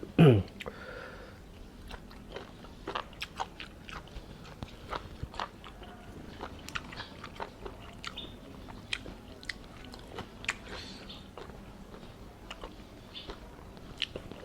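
Crunchy chewing and biting of blanched beef dipped in a bitter Isan-style jaew sauce, close to the mouth, with repeated sharp crisp bites spread steadily across the stretch and faint voices in the background.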